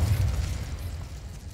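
An Incendio fire spell cast in Hogwarts Legacy, a short, deep whooshing burst with a heavy low-end roar that gradually thins out, with no talk over it.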